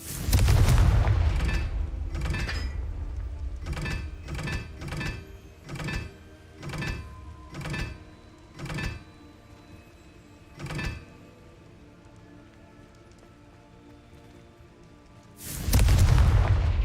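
Confringo fire spells burst in Hogwarts Legacy, a string of about ten booming explosive blasts in a steady rhythm, then a lull and a loud final roar, close and forceful.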